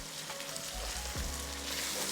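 Ginger and garlic fry in a pan of masala for lamb biryani, a soft, steady sizzle with a faint stirring knock, quiet and close with no talking.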